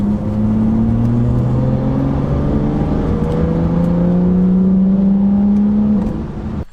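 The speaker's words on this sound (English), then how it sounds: "we'll do one more brake into the on-ramp here" A BMW F30 with new StopTech rotors and EBC pads brakes on a highway on-ramp at night, a loud, steady in-cabin road and engine drone with tones gliding slowly downward as it decelerates, then cutting off sharply.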